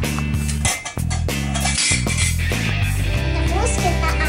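A plate scraping and clinking against a container while stirring barbecue-seasoned fried potatoes, with irregular close scrapes and taps.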